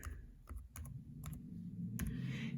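A name being typed on a computer keyboard: short bursts of light key clicks, a few at a time with brief pauses, close and fairly faint over a steady low background hum.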